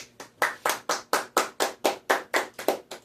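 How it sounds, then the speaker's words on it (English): Sheik, a video game character, claps in a steady round of applause: about a dozen crisp, evenly spaced claps in quick succession, close and clear with no talking. "At least Sheik gave him a round of applause."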